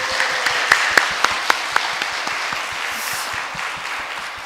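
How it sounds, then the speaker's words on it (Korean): Congregation applause ringing out in a church after a Sunday sermon by an elderly deaconess, steady dense clapping throughout with a few sharper louder claps near the start. "우리 귀한 말씀을 해주신 우리 김명애 권사님께 다시 한번 뜨거운 박수"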